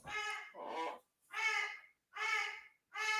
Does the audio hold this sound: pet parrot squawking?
yes